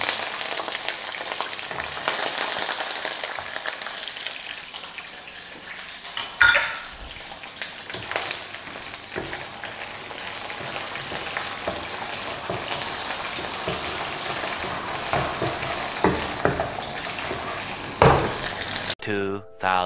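Petai beans fry in a pan for a couple of minutes, giving a steady hissing sizzle broken by occasional clatter of a utensil against the pan.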